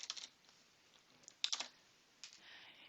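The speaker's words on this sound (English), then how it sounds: "you can send it via email by typing in the email address here" Someone typing an email address on a computer keyboard: quiet, close key clicks in short uneven bursts with small pauses between clusters, no talking.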